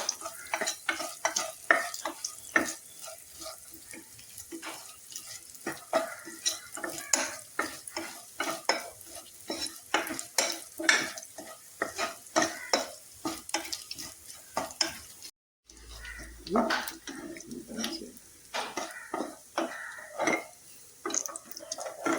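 Ingredients sauté in a pan, softened lightly for a traditional kanathappam, with a steady faint sizzle under frequent clattering spoon stirs, a brief break midway, then more stirring and splashy sounds.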